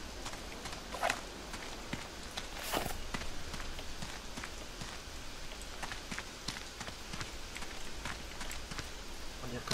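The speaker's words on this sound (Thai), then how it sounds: "บรรยากาศมันดีเลยฝนตก" Rain falling in the video game How to Survive 2, a dense, steady patter and hiss with scattered sharper drops and taps throughout, moderately quiet and continuous.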